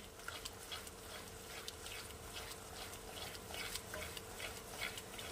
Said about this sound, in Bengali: এইভাবে এটা কিছুক্ষণ নাড়াবো, নাড়িয়ে এটাকে আমি ফুটতে দেওয়ার জন্য ছেড়ে দেবো।